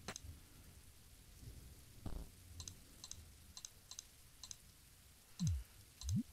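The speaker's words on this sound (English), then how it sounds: "Okay, we got rain." Rain in the video game There Is No Game: Wrong Dimension, a faint steady patter with regular clicking ticks and a few low rumbling swells, quiet and without speech.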